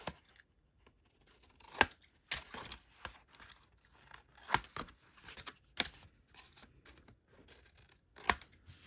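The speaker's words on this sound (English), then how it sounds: "I'm going to take my scissors and I'm going to miter my corner" Scissors snip through paper in a few sharp, separate cuts, close and quiet, with light crinkling of paper between snips.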